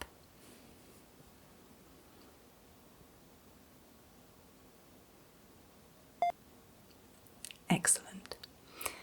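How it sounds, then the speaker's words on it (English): An airport security fingerprint scanner gives a single short electronic beep in a quiet room, followed by soft whispering close to the microphone. "Wait for the beep."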